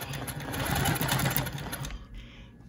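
A sewing machine runs steadily, stitching alongside a ruler, a fast dense mechanical whir that stops abruptly near the end, leaving quiet room tone.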